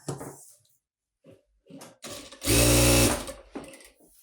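A sewing machine stitches facing fabric around the front piece of a boat-neck blouse. Brief scattered movement sounds lead into one loud, close, buzzing burst of stitching lasting about a second, which then tapers off.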